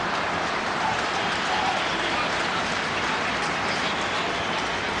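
A football stadium crowd at Estádio da Luz cheers a Cristiano Ronaldo move for Portugal against Russia, a loud, continuous wash of massed voices and applause.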